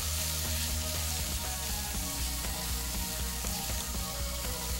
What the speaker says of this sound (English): by sauteing that off, you're bringing out all the flavors, and it's like a quick fry